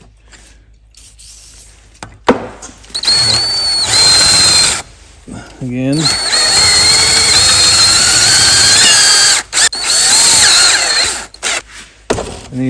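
A power drill bores with a 6.8mm bit into a broken bolt on a mower deck spindle, running in a steady, loud whine for several seconds with brief stops and restarts, a short spoken word heard early on.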